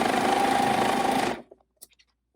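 A coverstitch sewing machine hems fabric with a loud, steady whirring hum for just over a second, then stops abruptly, leaving a few faint clicks and taps.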